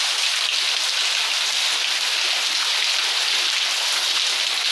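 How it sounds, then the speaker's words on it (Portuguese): Heavy rain falls in the Pernambuco backcountry at Jabitacá, a steady, dense hiss of downpour on surfaces that stays even and unbroken throughout, with no voices. "A chuva aí volta no sertão."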